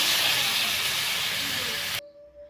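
A spice paste hits potatoes frying in hot oil and throws up a loud, broad, steady sizzle close by, then cuts off abruptly into quiet.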